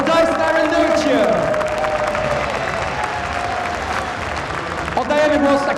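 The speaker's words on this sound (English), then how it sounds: "Big round of applause for DieStar and Nerchio." A live crowd at a StarCraft II tournament, IEM Katowice, applauding and cheering for players DieStar and Nerchio, steady clapping with a few whoops throughout, a loud continuous wash with some talk mixed in.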